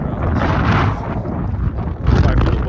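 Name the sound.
wind blowing into the microphone on a roof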